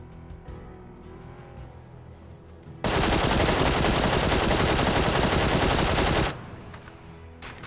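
Automatic gunfire in PUBG, a dense continuous burst of rapid shots lasting about three and a half seconds, loud and close, with quieter game ambience before and after.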